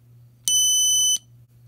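A single long electronic Morse code beep from a Snap Circuits kit, a high steady tone lasting under a second, sounds over a faint low hum.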